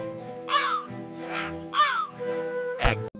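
A cartoon crow perched on a tree branch in a forest caws several times, harsh nasal calls in an uneven rhythm, close and clear over a quiet background, with a short thump near the end.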